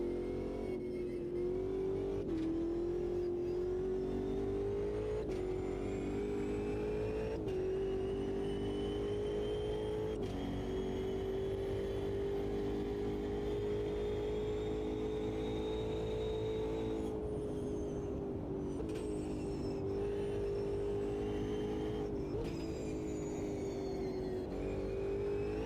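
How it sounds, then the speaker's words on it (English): A Porsche 911 R race car's engine roars steadily in a racing video game on the St. Petersburg circuit, holding a loud, sustained drone with rising and dipping pitch as it shifts through gears, with no talk over it. "This car's pretty speedy on the straights."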